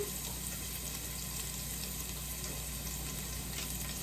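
Fresh garlic and onion sizzling in oil in a pre-warmed pot for pork ribs in green salsa, a faint, even, continuous hiss with no talk.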